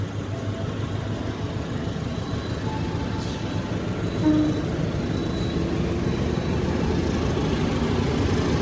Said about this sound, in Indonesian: Disusul kereta ekonomi guys.